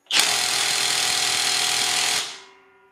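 A cordless impact wrench from AliExpress, powered by a Makita battery, hammers loudly and steadily for about two seconds before spinning down to a stop.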